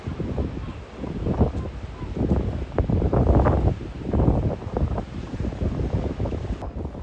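Strong wind buffets the microphone at a breezy Moroccan beach city known for kite surfing, a loud, steady roar with gusty swells and surf-like rushes throughout, no voices.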